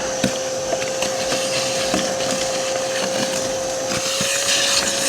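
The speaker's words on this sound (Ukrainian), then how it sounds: "А пилосос, по-перше, що подістає, по-друге, він в себе це все збере." A Karcher garden vacuum cleaner runs steadily with a constant motor whine, sucking up autumn leaves, debris and even small stones around a house, with scattered rattles and clatters of material hitting the intake.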